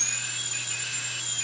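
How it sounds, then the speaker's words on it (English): A dental handpiece turbine flushed with Bio Lube cleaner emits a piercing, steady high-pitched whine with a faint low hum underneath, close and continuous throughout. "we're going to run that cleaner through the turbine"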